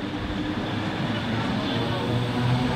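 An MAT 64 museum train running on the Hoekse lijn between Rotterdam and Hoek van Holland, a steady broad rumble of the moving train that holds even and fairly loud throughout, with no break or pause.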